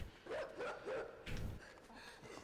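A dog in the video game Inside lets out a run of three short rising barks, whiny and close, followed by a heavier bark and softer whimpering yelps against a quiet background.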